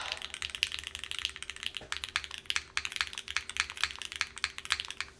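Steady rapid typing on an Encore Series 2 mechanical keyboard with an aluminum plate and full lattice blocks, giving close, crisp clacky keystrokes in a continuous uneven rhythm with no talking.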